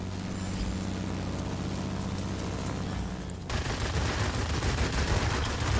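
Aircraft gunfire in the World of Warplanes combat flight game, engine drone giving way to dense, loud rapid-fire bursts that continue without pause, no voices present.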